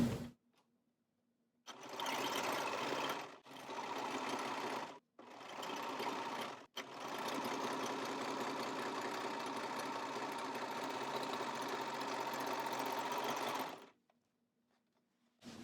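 A sewing machine runs a straight stitch along the seams of an isolation gown in several close, steady bursts, with the longest run near the end and quiet gaps between them.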